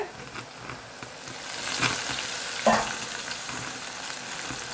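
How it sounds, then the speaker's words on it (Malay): Tempeh frying in a wok until crispy, a steady oil sizzle with occasional scraping stirs and a brief louder crackle partway through, close and continuous with no talking. "Ni kita akan goreng sampai rangup."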